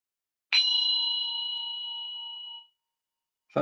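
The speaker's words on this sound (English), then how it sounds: "a little sounding of a zen bell" A single zen bell struck once, ringing with a clear, bright sustained tone that slowly decays over about two seconds before cutting off, close and alone with no talk.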